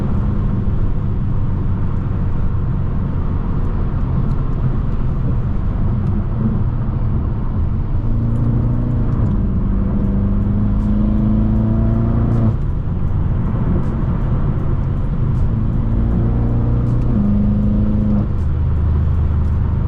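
A tuned 800 HP BMW M6 drives along the FDR Drive in New York City, its engine droning steadily and loudly throughout, with rising revs in the middle section as it accelerates through traffic.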